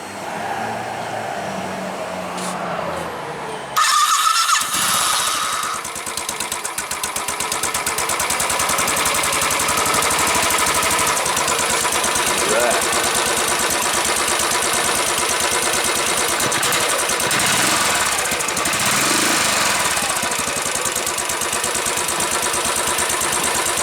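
An engine cranks and catches with a sudden burst, then settles into a steady, close, even idle that runs smoothly for a long stretch with slight surges.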